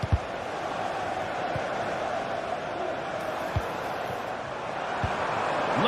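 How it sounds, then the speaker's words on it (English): Steady crowd roar from a stadium in a football video game, a broad continuous wash of cheering and chanting with a few faint thuds, rising slightly toward the end. "The crowd encouraging him to take it on."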